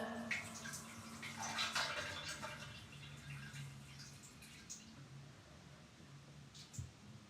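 Faint trickling stream of a person urinating into a toilet, a soft watery hiss over a quiet room hum with small splashes toward the end.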